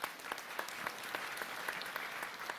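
Audience applause at an evening gathering, dense steady clapping from a crowd, fairly faint and uniform throughout.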